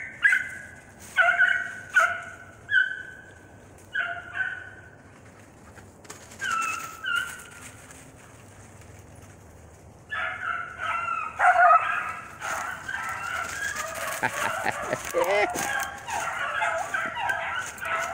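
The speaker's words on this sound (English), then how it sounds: "Them two pups seen that rabbit, and they went right on his behind." Hunting dogs on a rabbit's trail give repeated yipping barks and whimpering bays, some close and some farther off, then break into a busier, overlapping chorus of cries in the brush.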